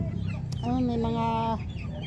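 Chickens and chicks cluck near a coop, one hen giving a drawn-out, clear cluck over a busy background of softer clucking and low voices.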